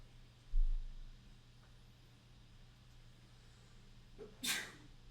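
A single sharp sneeze bursts out in a class session near the end of a quiet stretch with low background hum.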